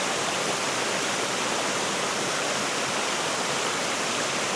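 Water rushes down near stream headwaters at Fraser's Hill, a dense, constant roar of flowing water close by with no voices.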